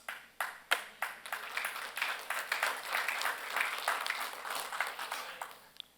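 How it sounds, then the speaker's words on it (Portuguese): A church congregation gives a faint, hesitant round of applause, scattered individual claps that build into a thin, uneven patter and then fade, heard from a distance in a reverberant hall. "Está tímido essas palmas, né?"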